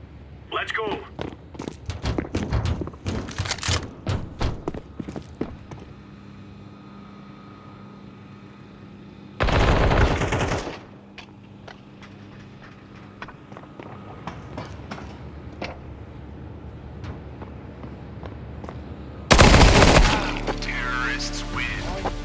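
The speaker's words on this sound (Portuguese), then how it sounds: "Foi tiro." Gunfire in Counter-Strike comes as a scatter of sharp cracks early on, then two loud, broad blasts spaced apart, with voices talking in between.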